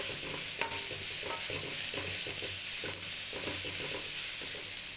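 Ingredients for fried rice fry in a pan, giving a steady close sizzle with soft stirring knocks and a couple of sharp clicks, no voices.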